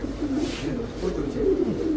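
Soft, low cooing from silver Budapest racing pigeons repeats steadily throughout, with faint background murmur underneath.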